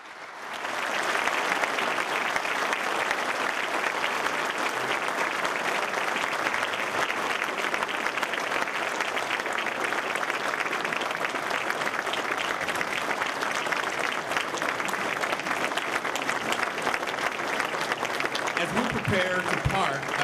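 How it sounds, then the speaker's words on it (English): Sustained, loud audience applause fills a hall after a Muslim–Christian interfaith panel discussion, steady dense clapping lasting throughout with no pause. "let's have one more round of applause for both Dr. Badawi and Pastor Safa"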